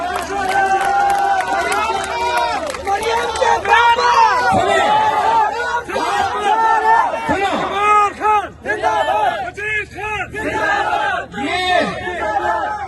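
A big crowd at a political rally shouts slogans in unison, with loud, rising and falling voices chanting together and overlapping cheers that carry on without a break.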